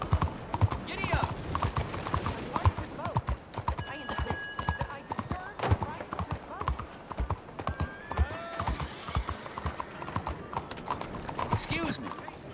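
Horse hooves clip-clopping at a gallop in the open-world western game Red Dead Redemption 2, a steady drumming rhythm layered with game music, ambient sound and a brief whinny, with voices speaking over it.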